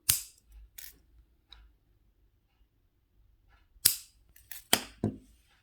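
Wire cutters snipping jewelry wires on a handmade heart pendant, a few sharp close clicks spaced apart with quiet gaps between, one pair of snips early and a quick cluster of three near the end.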